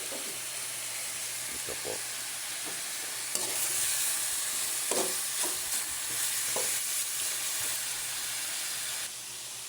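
Native chicken sautéing in a hot pan for tinola, giving a steady sizzle and hiss with scattered stirring scrapes, close and moderately loud, with a brief spoken phrase over it.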